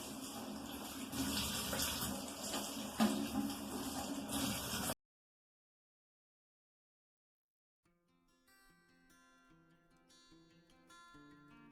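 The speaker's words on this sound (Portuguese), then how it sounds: "Agora nós vamos lavar sob água corrente," Tap water runs loudly and steadily over vegetable leaves being washed, then stops abruptly. Silence follows, and faint scattered clinks come in near the end.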